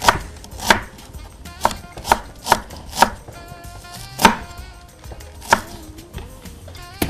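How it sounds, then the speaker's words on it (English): A knife chops onions on a board in a kitchen, about a dozen sharp, distinct thuds at an uneven, unhurried pace, close and clear with quiet pauses between strokes. "I have some chopped onions here, but I'd like to chop a few."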